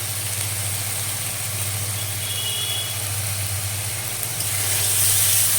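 Moong dal with turmeric fries in a pan with a steady sizzling hiss over a constant low hum, growing slightly louder toward the end, with no talking.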